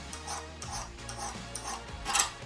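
A hand file scraping back and forth to clean up a metal edge on a 1997 Chevy/GMC 350 5.7L intake part, several soft rasping strokes in an uneven rhythm, fairly quiet and close.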